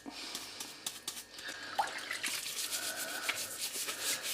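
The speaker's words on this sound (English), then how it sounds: "Sort of use the little scrubbing brush here. I'm dabbing it into the holes, make sure it pushes all the dirt out." A small scrubbing brush works into the speaker-grille holes of a Sega Game Gear case, giving quick, close, papery scratching strokes that run continuously at an even level.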